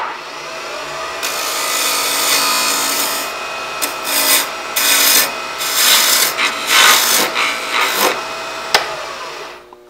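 A wooden honey dipper handle spinning on a lathe is cut and shaped with a turning tool, a close hiss and scrape that comes in bursts of uneven strokes over the machine's steady hum.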